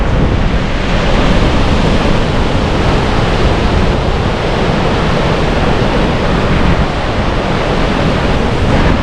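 A river in flood near old restored mill stones in Ronda after torrential rain, a loud, steady, unbroken roar of rushing water with no voices over it.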